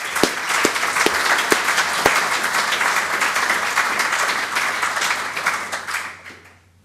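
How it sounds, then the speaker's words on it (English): A lecture audience breaks into sustained applause with a few sharp claps standing out at the start, steady and full before tapering off at the end. "let's give them a round of applause"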